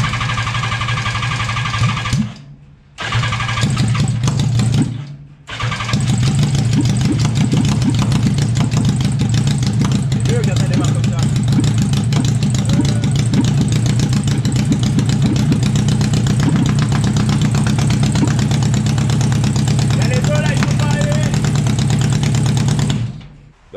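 A Renault 4L engine cranks, briefly cuts out, catches and settles into a loud, close, steady idle with a low rumbling drone and slight knocking, running alone for about twenty seconds before stopping.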